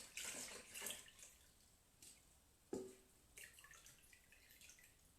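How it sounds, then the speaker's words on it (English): Buttermilk draining from freshly churned butter, heard as soft splashes and trickles with a few drips, faint and close by in a quiet room. "I'm going to drain it for the last time."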